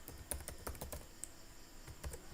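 Quiet, quick keystrokes on a computer keyboard while typing commands in a command prompt, in short clustered bursts with brief pauses.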